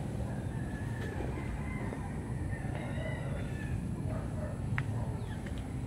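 A rooster crows a few times at a moderate distance over a low background rumble, with other faint bird calls around.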